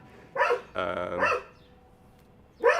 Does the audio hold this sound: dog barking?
yes